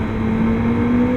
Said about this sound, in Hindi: अब मैं दिखाता हूँ आपको सुपर बाइक मेरे बराबर से जा रही है